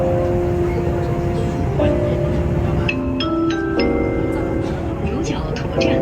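Chongqing light rail Line 2 train pulling into a station, a steady loud rumble of the car with rising electric motor whine and a chime-like tone, as an onboard voice announcement plays over it.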